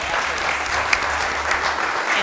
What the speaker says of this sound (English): But I think they deserve a round of applause for their